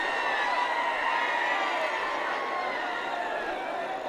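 A crowd roars and cheers steadily at a bullock cart race semi-final on the Pusegaon ground, a dense, continuous wash of voices that stays loud throughout without pause.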